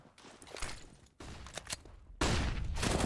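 Gunfire during a competitive Counter-Strike match, with a Galil rifle firing through smoke: a dense, loud run of rapid shots and bursts that breaks off briefly, then returns, and ends in a sustained roar of heavy firing.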